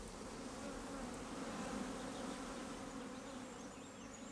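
Honey bees buzz in a dense, steady drone around an opened hive with its queen exposed to sunlight, a continuous close swarm sound with no voices.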